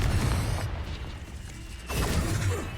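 A Confringo fire spell cast in the video game Hogwarts Legacy, a rumbling blast with a heavy boom that fades to a brief lull, then a second rush of crashing energy.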